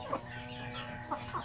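Soft, distant clucks from a chicken or rooster of a laying breed also kept as a roaster come in a few short bursts over a quiet background hum.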